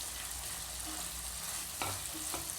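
Fried cauliflower is stirred into spicy Manchurian sauce in a pan, giving a soft, quiet sizzle with a couple of brief scraping stirs and no voices.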